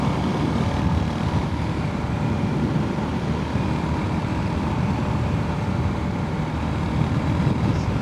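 A motorcycle rides along a road at sunset, passing a golf course. Its engine makes a steady, continuous drone with rushing wind noise throughout and no talking.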